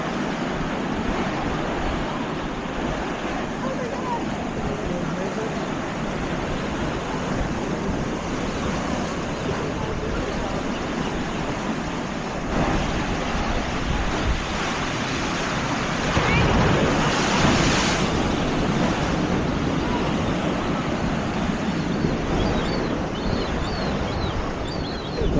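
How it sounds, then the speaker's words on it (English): Ocean waves break along a hidden stretch of San Diego coastline in a constant, rushing roar, with wind buffeting the microphone and the surf swelling louder near the end. "And then we have our beautiful sea."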